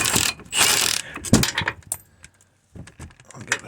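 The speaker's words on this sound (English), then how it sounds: "Next I use a T55 to take out this brake bracket," A ratchet with a T55 bit clicks and rattles while undoing the brake bracket bolts on a Citroen Picasso, close bursts of metallic pawl clicking with short pauses between them.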